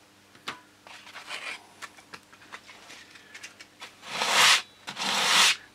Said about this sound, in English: I need to sand a little bit off the top of the rib to get it to be correct.